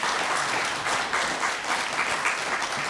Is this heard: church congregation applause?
yes